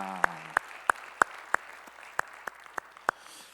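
A church congregation gives applause of praise after the worship songs, heard here as a sparse run of about ten sharp, evenly spaced claps, fairly close and clear, following a brief low hum at the start.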